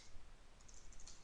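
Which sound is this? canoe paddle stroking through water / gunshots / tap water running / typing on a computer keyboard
typing on a computer keyboard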